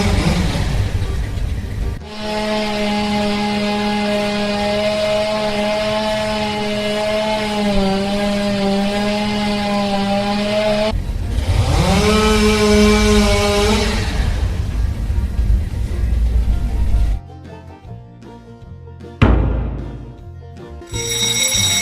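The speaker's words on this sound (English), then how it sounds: "get the chainsaw" A chainsaw roars loud and close in a dramatic scene on a conveyor-belt site by a swamp, its engine pitch holding steady then surging and dropping, before choppy mechanical clatter and bursts take over.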